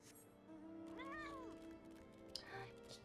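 A cat meows in the video game Final Fantasy XIV: one clear, rising-and-falling mewl near the middle, set against steady game music and ambient tones, with faint game noises trailing after.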